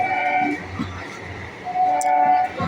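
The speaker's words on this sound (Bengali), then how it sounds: "মেল ট্রেন দৌড়ে চলেছে শ্যামনগরের ওপর থেকে" A mail train runs past over Shyamnagar, a loud rolling rumble carrying sustained tonal horn or whistle notes that fade and then return near the end.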